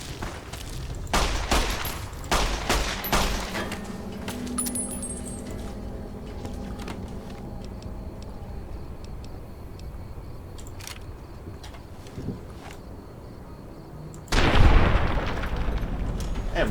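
Gunfire in the game Fallout: New Vegas: a rapid cluster of sharp shots early on, then quieter clicks and mechanical rattles, and a final heavy booming blast near the end.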